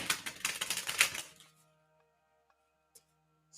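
A Destiny tarot deck being shuffled, a quick close burst of riffling card clicks lasting about a second and a half, then near silence with a couple of faint taps.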